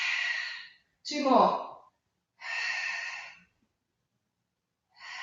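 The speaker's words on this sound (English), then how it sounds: "Make your breath like you're fogging up a mirror, so you should be able to hear yourself breathing." Audible Pilates breaths, breathy hah exhalations like fogging a mirror, come in several separate loud bursts with pauses between, and a voice speaks briefly among them.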